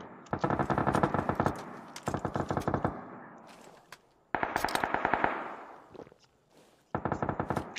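Bursts of automatic gunfire in a battle royale shooter video game, several rapid rattling volleys of shots separated by short pauses, loud and close, with no talk over them.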